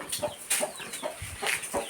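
Several backyard chickens cluck softly in short, irregular bursts, close by and fairly quiet, with light outdoor ambience and no talking.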